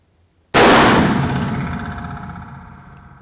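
A single loud, sharp shot from a Taurus Judge Home Defender revolver firing buckshot at an outdoor range, with a ringing tail that slowly fades over about three seconds.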